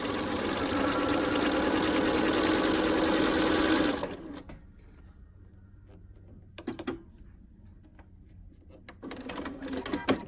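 A sewing machine chain-stitching pieces for an Ohio Star quilt block with a quarter-inch foot, whirring fast and steadily for about four seconds. It then falls quiet, with a few short bursts of stitching and handling noise afterward.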